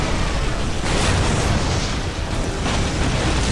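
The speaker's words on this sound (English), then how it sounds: "Got another rocket. Bang." A rocket hit in a Warhammer 40,000 Dawn of War battle: a dense, sustained roaring blast with rumbling, crackling debris, loud and continuous, the explosion swelling again partway through.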